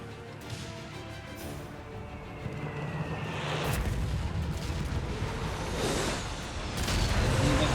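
Artillery fire in the World War II strategy game Company of Heroes 3, with heavy booming impacts and crashing blasts that grow louder and denser toward the end over a continuous rumbling battle backdrop.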